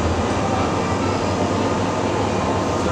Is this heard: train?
yes